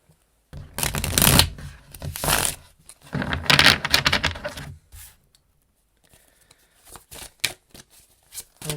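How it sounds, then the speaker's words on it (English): Tarot cards are shuffled up close, with two or three loud riffling bursts followed by softer scattered taps and slides as the deck is squared. No one speaks. "Let's do a quick shuffle here."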